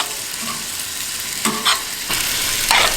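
Onion and garlic fry in a pan on a camp stove for shrimp and grits, a steady close sizzle broken by a few brief stirring scrapes; no talking.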